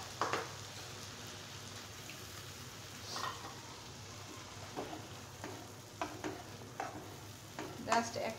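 Boiled eggs stirred and fried in a spice masala for egg bhuna, with a soft continuous sizzle broken by scattered scraping clicks of a spoon against the pan.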